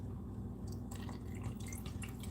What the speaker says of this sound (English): I'm going to add a little bit of water to both of these.